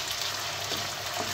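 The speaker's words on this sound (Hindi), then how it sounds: "और ये टमाटर भी हम इसी तरीके से भूनेंगे जब तक इसकी ये घुल नहीं जाते।" Tomatoes and onions fry in a pan for a potato curry, giving a steady, close, even sizzle with a faint stirring scrape near the end and no voices.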